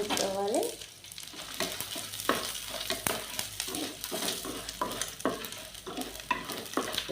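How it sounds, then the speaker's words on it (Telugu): Dried red chillies fry in hot oil, a steady close sizzle with repeated clinks and scrapes of a spoon stirring them in the pan, no voices. "నూనె వేడెక్కింది, ఎండుమిరకాయలు వేయించుకోవాలి."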